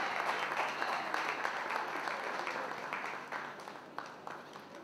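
Applause from an audience at a launch event in New York, many hands clapping steadily and fairly close, tapering slightly with a few sharper claps near the end.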